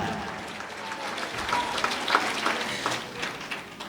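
A church congregation claps together in moderately quiet, scattered applause, with a few sharper claps standing out and faint voices mixed in.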